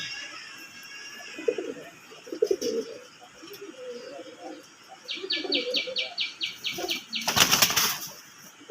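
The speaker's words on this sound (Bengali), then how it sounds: "ডাকের স্টাইলটা দেখেন কীভাবে সিনা টান টান করে ডাকতেছেন" Bangladeshi desi Golla pigeons coo in low, repeated throaty phrases close by. A sharp burst of flapping wings breaks in near the end.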